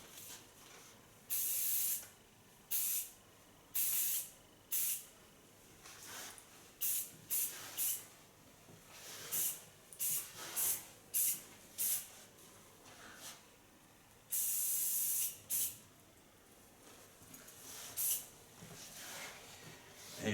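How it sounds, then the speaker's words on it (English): Flax hairspray misted onto hair in a long series of short, hissing spray bursts, close and fairly loud, with brief pauses between pumps. "it's a flax hairspray"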